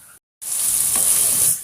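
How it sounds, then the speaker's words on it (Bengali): Oil left over from frying fish is poured into a hot pan to start a curry, and a loud, steady hiss of sizzling bursts in right after a brief silence, holding strong for over a second. "মাছ ভাজির তেলটা এখন তরকারিতে দিয়ে দেবো"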